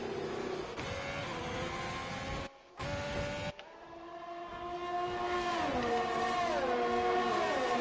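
Several race car engines in an F1 racing video game at the Australian Grand Prix, high whining tones rising and falling as cars shift through gears, steady and fairly loud with no talking.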